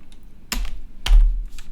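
A few sharp computer keyboard keystrokes sound close and spaced apart while code is typed, with two distinct clacks standing out against a quiet room.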